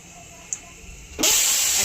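Whole garam masala spices and cumin seeds hit hot oil for tempering, bursting into a loud, steady sizzling hiss after a quieter start with a brief crackle.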